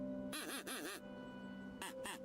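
A duck whistle item in a video game gives two bursts of wavering, nasal quacks, a pair of warbling calls, a pause, then two more short quacks, loud and close.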